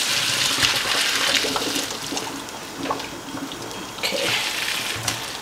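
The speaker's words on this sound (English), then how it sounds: "And I'm gonna drain out my yuca." Water from a pot of boiled cassava pours out into a sink as it is drained, a steady splashing rush with brief gurgles, close by and with no one speaking.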